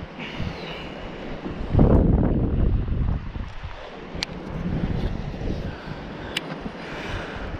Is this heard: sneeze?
no